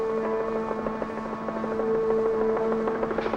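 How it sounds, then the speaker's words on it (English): A helicopter on its way to a damaged microwave radio tower after an earthquake drones with a steady whining engine hum and a rapid rotor pulse underneath, moderately loud and unbroken, with no talking. "We've got a helicopter on the way."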